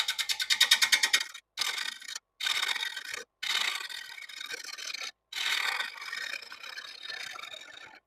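A freshly sharpened bowl gouge cuts walnut spinning on a lathe at about 600 RPM, a close, loud rasping scrape in repeated passes of one to two seconds separated by short silences, starting with a rapid chattering burst.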